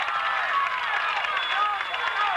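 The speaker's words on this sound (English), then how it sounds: "Listen to the crowd getting behind this team now." A crowd cheers at a 1989 high school football game between the Auburn Bulldogs and the Nebraska City Pioneers, a dense, steady roar of many voices that holds throughout without a break.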